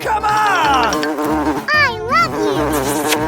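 A fly buzzing close by, a loud whining drone that wavers in pitch and swoops up and down as it moves around, against a low background hum.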